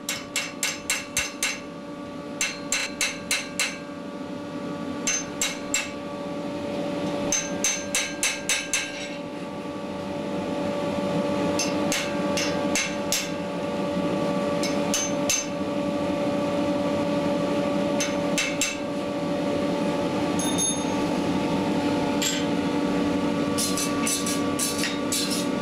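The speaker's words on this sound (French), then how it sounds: "Coup de marteau très précis." Precise hammer blows ring out on steel as an art knife is forged, shaping a skull head; sharp metallic strikes come in quick bursts of several hits, close and loud, over a steady workshop hum.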